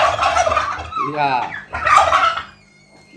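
Bronze turkeys gobble in a farm pen, a loud warbling rattle near the middle followed by a second burst of harsh calls, with a short voice reply heard briefly.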